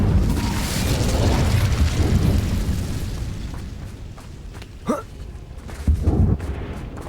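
Fire spell blasts in the Hogwarts Legacy video game, a loud rumbling burst fading over a few seconds, followed by a sharp whooshing pop and another brief burst.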